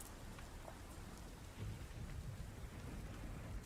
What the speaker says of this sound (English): Lightning crackling all around you.